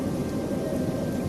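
Heavy rain pouring down in a dense, continuous hiss with a low rumble beneath, steady and unbroken throughout.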